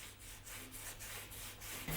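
Natural bamboo fishing rod being sanded and polished by hand, a soft rhythmic rubbing with regular back-and-forth strokes, quiet and close, with no voices.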